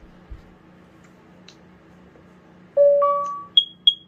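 Carbon monoxide test on a second-generation Nest Protect smoke alarm: after a quiet stretch, a loud sustained electronic tone followed by two short, sharp high beeps, close up and alone.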